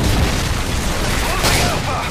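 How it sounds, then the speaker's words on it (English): A Predator missile explosion in a Modern Warfare 3 multiplayer match, a dense broadband boom and rumble that fills the whole moment, loud and close over a continuous wash of game noise. "Friendly Predator missile inbound."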